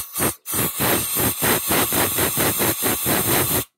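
Compressed air from an airline hisses through the exhaust port of a Honda XR250 engine with burnt exhaust valves, a loud close broadband rush broken into rapid pulses and short gaps.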